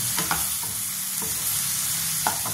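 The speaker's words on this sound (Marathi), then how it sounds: "आता बघा हा कांदा किती छान होतोय." Chopped onion frying in a pan, a steady sizzle with intermittent scraping stirs of a spoon against the pan, close and continuous with no voices.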